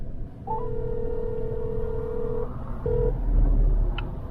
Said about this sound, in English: I'm gonna phone a friend